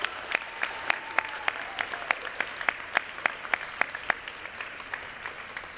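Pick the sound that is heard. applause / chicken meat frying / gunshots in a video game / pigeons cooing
applause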